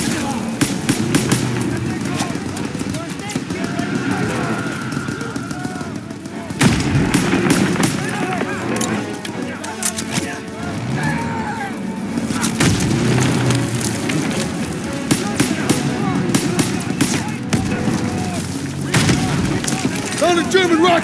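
Panzerschreck rocket launcher fire and explosions in a WWII video game, a loud, continuous battle din of booming blasts and gunfire lasting a long stretch, with voices shouting over it.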